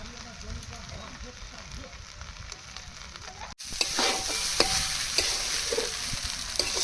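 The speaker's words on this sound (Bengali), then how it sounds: "সুন্দরভাবে একটু নেড়ে চেড়ে নিতে হবে।" Fish-head muri ghonto stirred in a hot pan, a steady sizzle and scraping that jumps louder midway after a brief break, with frying crackle throughout.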